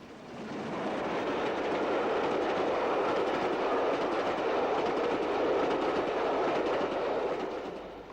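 British Railways Britannia class steam locomotive hauling a special rail tour train, a steady rolling roar of wheels and carriages that fades in, holds for several seconds, then eases away.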